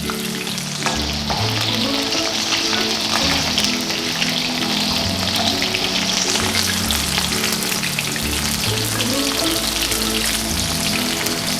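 Chicken pieces deep fry in hot oil, a dense, continuous sizzle and crackle heard close up and unbroken for the whole stretch, with faint background music underneath.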